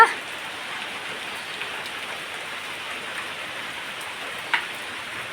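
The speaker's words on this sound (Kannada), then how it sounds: "ಮಳೆ ಬರ್ತಾ ಉಂಟು" Steady rain falling on a surface, an even hiss of drops with an occasional louder tap, continuous and fairly close.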